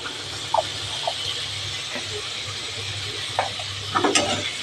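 Onions and tomatoes fry in a pan with a continuous soft sizzle under a low hum, broken by several short scraping clicks of a spatula stirring, sharpest near the end.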